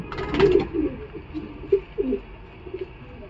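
A male Katmar Chhapga pigeon coos in a few soft, low throaty bursts that fade in and out, with one fuller call near the start followed by quieter scattered coos against a faint background hum.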